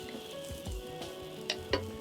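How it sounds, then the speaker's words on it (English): Chickpeas fry with a steady sizzle in a hot pan, close up, with a few light clinks and scrapes from stirring. "There we go, we got some nice sizzle going."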